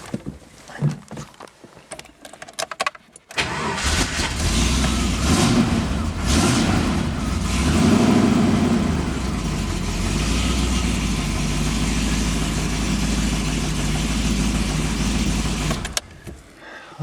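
Rover SD1 with a 4.6 V8 twin plenum engine cranks and fires after a few seconds of clicks and handling, then settles into a steady, loud, close idle with a deep low rumble that holds until it cuts off near the end.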